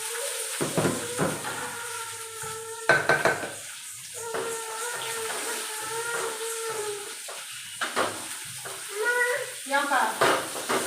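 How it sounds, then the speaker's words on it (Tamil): Spices, curry leaves and onions sizzle in hot oil for mutton biryani, with intermittent stirring and clinks of a utensil against the pan, close and moderately loud, while a few faint tonal sounds drift in the background. "எண்ணெய் ஊற்றி பட்டை வகைகள் போட்டு அடுத்து கருவேப்பிலை வெங்காயம் போடலாம்."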